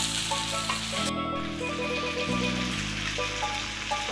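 Chicken fries in plenty of oil in a karahi, giving a steady, close sizzle that runs throughout with a faint low tonal hum beneath it.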